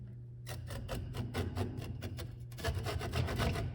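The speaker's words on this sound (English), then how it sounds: "I'm using a tenon saw here, but any kind of saw would be fine." A tenon saw starts a cut in wood for a mortice and tenon joint, giving a run of short rasping strokes that settle into a steadier rhythm of close, moderately loud sawing, with no talk.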